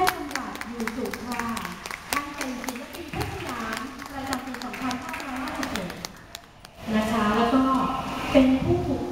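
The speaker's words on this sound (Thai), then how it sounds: "ขอเสียงปรบมือต้อนรับ" Audience applause welcomes a guest, a folk song teacher, at a Thai traditional performing arts event. Scattered, fairly faint claps run under a voice, with a short lull before a fuller burst of clapping near the end.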